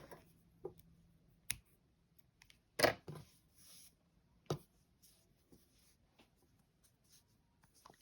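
Scissors snip crochet yarn in a quiet room, three or four short, crisp cuts spaced apart with faint handling rustles between them.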